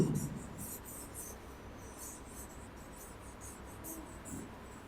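A pen writes a word in joined handwriting, making faint, scratchy strokes in short bursts that come close together against a quiet room.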